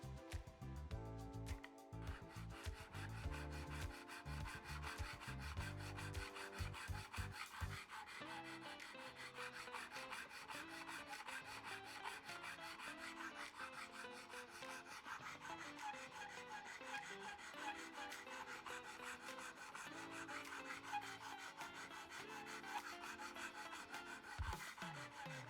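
A metal file rasps along the sides of guitar frets during a kit fret-leveling job, a steady continuous scraping that runs close and fairly loud through the whole stretch with no talk.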